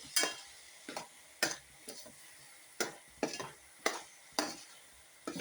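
Spoon strokes stir ash gourd thoran in a pan, about nine separate scraping, sizzling pushes in an uneven rhythm, close and moderately loud with no talking.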